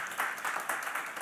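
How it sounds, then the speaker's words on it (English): A brief burst of applause, several people clapping in a quick irregular patter, moderately close. "Yes, please applause to Antoine."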